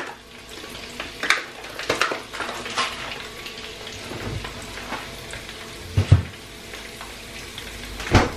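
Sixteen chipolata sausages frying in a pan as the heat is turned up, a steady low crackle and sizzle close by with a few louder spits and pops, no voices.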